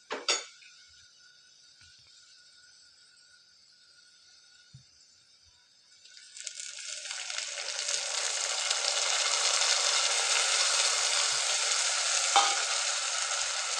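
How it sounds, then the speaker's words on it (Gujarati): Onions fry in a pan with a faint hiss and a few light clinks of the utensil. Tomatoes are then stirred in, and the pan swells into a loud, steady sizzle that lasts to the end. "હવે ટામેટાને બરોબર મિક્સ કરી લઈએ।"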